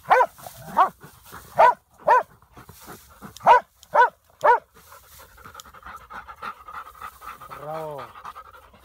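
Dogs barking in a series of sharp, close woofs at irregular intervals, followed by quieter panting and a whine near the end.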